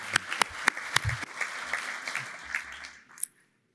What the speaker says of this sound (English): I'm going to give them a nice round of applause,